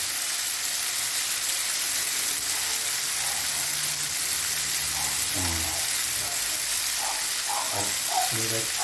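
Spaghetti tossed in a pan with garlic, chili and basil gives a steady broadband sizzle, with scraping and clinking of stirring growing busier toward the end; a voice is faintly present in the background.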